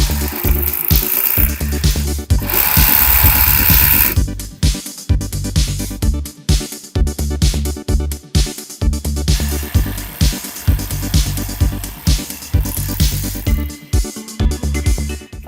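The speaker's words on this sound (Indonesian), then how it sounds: "tinggal saya obras dan saya lipat" An overlock sewing machine serges the hem of a gamis dress, running loudly up close in rapid, rhythmic stitching bursts with short pauses between runs.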